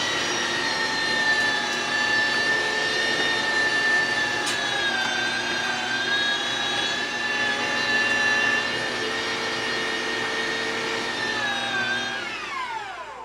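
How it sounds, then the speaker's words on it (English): A meat grinder runs steadily as pork is fed through a fine die for homemade bratwurst, a continuous high motor whine with a sustained tonal hum that winds down at the end. "I'm going to switch the die and grind the rest of it nice and fine."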